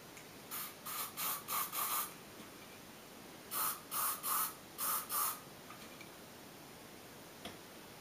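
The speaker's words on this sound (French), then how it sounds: "On va tout de suite pchiter avec de la laque." Nivea Volume Sensation hairspray sprayed onto curled hair in two bursts of short hissing puffs, about five quick sprays then four more, close and fairly quiet with no talking.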